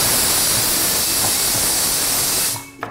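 Pressure cooker whistle releasing steam while dal cooks on a Kerala stove: a loud, steady hissing blast that fills the clip, then cuts off abruptly near the end.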